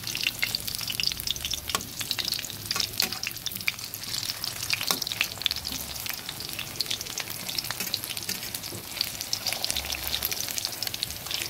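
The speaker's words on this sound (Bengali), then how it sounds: "পটলগুলো কিছুটা ভাজা হয়ে গেছে" Stuffed pointed gourds fry in oil in a pan, giving a steady close sizzle with occasional crackles and pops, with no one talking.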